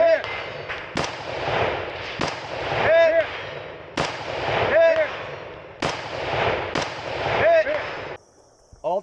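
An Uzi fires in short bursts at steel plates on a multigun range, with about three loud bursts spaced a few seconds apart and sharp metallic pings of hits ringing out, and brief quiet after.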